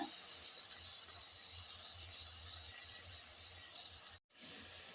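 Basmati rice, three-quarters cooked, tipped bit by bit into a pan of sautéed vegetables and sauce for fried rice, giving a steady loud sizzling hiss that runs throughout and breaks off for a moment near the end.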